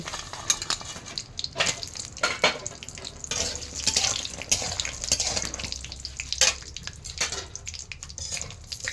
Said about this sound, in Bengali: কড়াতে বড়ি দিচ্ছি,